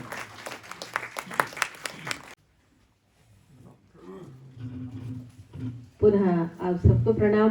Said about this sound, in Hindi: आपकी जोरदार तालियों के बीच आवाज देता हूं